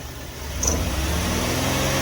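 A car engine idles then revs up, rising to a louder, sustained hum that holds steady close by.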